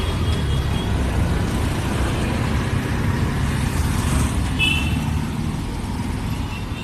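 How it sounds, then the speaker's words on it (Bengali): Dense road traffic of cars, buses and trucks rolls past in a continuous, fairly loud roar, with a faint squeal rising briefly above it and no one speaking. "এত গাড়ি ঘোড়া রাস্তায়।"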